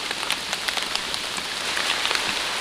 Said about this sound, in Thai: ฝนก็ตกบ่เศร้าครับ